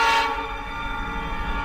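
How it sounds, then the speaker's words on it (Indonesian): A train rumbles past and fades into the distance, a brief horn note at the start giving way to a steady low rolling hum. "Terdengar juga suara kereta api yang melintas menjauh."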